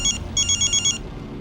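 A telephone ringtone sounds in a police station scene from a crime drama: a loud electronic ring in short, evenly spaced pulses that cuts off after about a second, with no voices.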